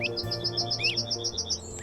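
Rapid, repeated high bird chirps and tweets from the board game Wingspan's soundscape, bright and close over a faint ambient bed, with a brief sweeping call near the end.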